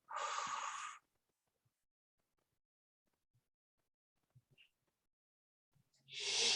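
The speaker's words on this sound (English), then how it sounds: "And then breathing out through your mouth for 8." A slow, deliberate breath out through the mouth during a calming count-to-eight breathing exercise, heard loud and close for about a second. Near silence follows until another breath begins at the very end.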